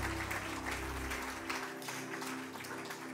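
A church congregation claps in steady, dense applause that fills the space, loud and continuous throughout with a sustained musical tone beneath it.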